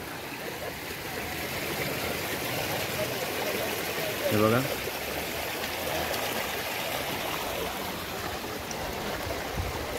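Floodwater pours over a blocked cement road in a flooded neighbourhood, making a continuous rushing wash at moderate distance. Someone briefly speaks over it.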